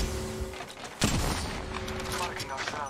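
Gunfire in the Apex Legends video game: a loud burst of weapon fire hits at about one second, over dense continuous battle noise with a steady tone running beneath.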